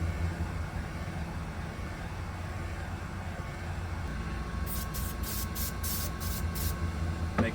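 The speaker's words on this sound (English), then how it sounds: "I'm going to quickly do the glue and activator spray." Short bursts of aerosol activator spray hiss over a steady background hum while working on composite fascia, roughly six quick puffs near the end, close and clear.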